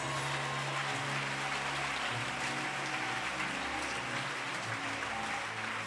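A congregation at a church healing service claps together in sustained, dense applause that fills the space, steady and loud throughout with no clear individual voices.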